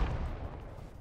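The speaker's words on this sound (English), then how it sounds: "Oh, Bradley just shot at him." A Bradley tank fires in the game Rust, one heavy, booming shot that rolls out loud and low for about a second with no voices over it.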